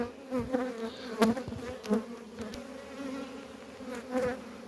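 Honeybees buzz steadily around an open hive during a package-brood inspection, their dense droning hum rising and falling close by with a few louder swells as bees pass near, and no voices.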